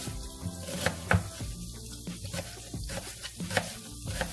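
Chopped onion fries in a pan for herrings in vinegar marinade, a soft continuous sizzle with spatula stirring and scraping clicks close by and no talking.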